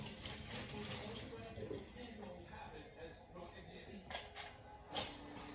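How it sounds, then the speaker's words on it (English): Liquid from a can of black olives drains into a sink, a steady watery splashing with a couple of sharper metallic clinks near the end, while a person talks over it. "I'm gonna do some black olives. Drain them all."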